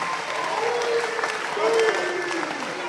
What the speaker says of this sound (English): why don't you give yourselves a round of applause